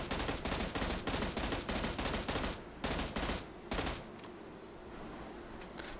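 M16A4 rifle firing a sustained spray in PUBG Mobile, a rapid string of loud, evenly spaced shots for about four seconds, then a couple of short bursts before the shooting stops and faint background ambience remains.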